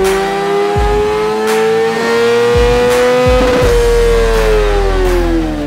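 A Kawasaki Superteen championship motorcycle engine revs loud and close, its pitch rising steadily with a few sharp gear-change blips along the way.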